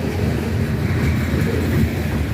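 A steady, heavy low rumble of a train running continuously near an active truss bridge, with wind noise buffeting the microphone throughout.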